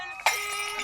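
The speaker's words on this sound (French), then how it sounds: "Depuis, je suis hanté par le son de son bocal qui éclate." A glass fishbowl shattering, one sharp bright crash of breaking glass followed by a brief ringing tail of tinkling shards, close and alone with no voices.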